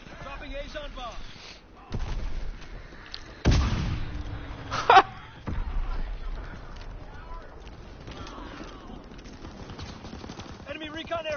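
An Azon bomb dropping and exploding in a World War II video game: several heavy blasts and rumbling impacts spread across the stretch, with gunfire and a talking voice in between.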